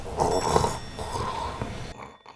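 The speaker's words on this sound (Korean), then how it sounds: "왜 이렇게 코를 골아?" A man snoring in bed at night, heard as two long, close, rough snores with a throaty rattle, followed by a quieter breath before it falls nearly silent.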